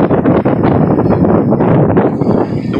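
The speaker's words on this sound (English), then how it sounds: "The wind's blowing really hard" Strong wind roars hard against the microphone outdoors, a loud, continuous buffeting rush with no pauses and no speech.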